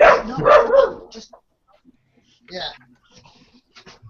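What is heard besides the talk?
small dog barking and whimpering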